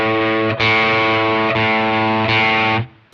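A distorted electric guitar strums sustained chords through a MayFly Creamsicle overdrive pedal, each ringing loudly with a gritty edge before fading at the end.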